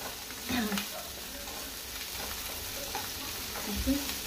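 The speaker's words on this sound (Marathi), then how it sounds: "बरो आमकां ब्रावन जायसर बरो फ्राय करून घेवपाक जाय." Onion masala frying in a pan for egg curry, a soft steady sizzle with occasional stirring scrapes, fairly quiet and close.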